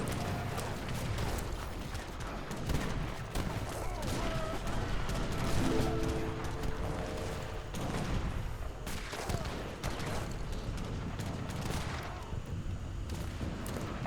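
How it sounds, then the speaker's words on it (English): Mortars and petards attacking in Age of Empires 3, with a steady din of battle, repeated thuds, crashes and volleys of gunfire at moderate distance, under a little speech. "Mortars and petards."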